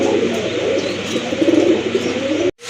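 A pair of pigeons coo steadily and close up in low, throaty rolls that run almost continuously, cutting off abruptly near the end.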